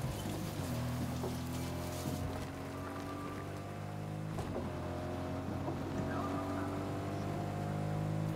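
A truck drives through Fortnite gameplay as a storm approaches on a mountain, with a continuous engine drone shifting in pitch over a rain-like wash of noise and a few sharp in-game clicks, no talking.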